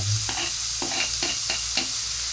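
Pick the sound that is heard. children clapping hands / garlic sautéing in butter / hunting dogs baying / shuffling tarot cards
garlic sautéing in butter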